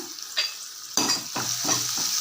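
Onion and tomato are sautéed for garlic chutney, with a sharp burst of sizzle and then quick scraping stirs in the hot pan, close and fairly loud, and no one speaking.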